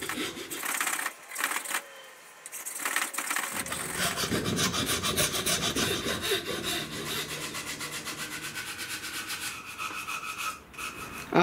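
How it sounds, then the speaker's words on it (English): A belt sander works a piece of wood with a continuous, close, coarse abrasive rasping that starts after a few seconds of lighter scraping and holds steady to the end. "And then I can use my belt sander to do as much of the sanding as possible."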